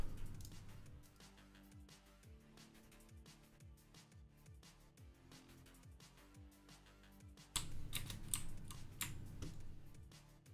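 Rapid clicky typing on a Das Keyboard Pro 4 with Cherry MX Blue switches, a dense run of close, crisp key clicks that grows busier and louder toward the end.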